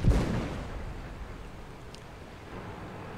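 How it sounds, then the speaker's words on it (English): Tank cannon shot in a tank video game, with a shell bouncing off a T-29: one short, low boom at the very start that fades into quiet, distant rumble. "And he bounces on the T-29 again."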